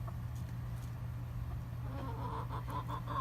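Soft, scattered clucking from chickens close by in a run, with a steady low hum running underneath the whole time.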